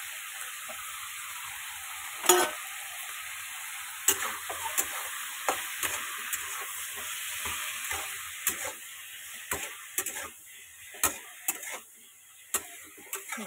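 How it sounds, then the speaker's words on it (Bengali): Onions frying in a pan with salt and turmeric, a soft steady sizzle broken by sharp stirring clicks and scrapes of a utensil, close and moderately quiet, with no talking. "এটা ভালো মতো ভাজা হোক এবার।"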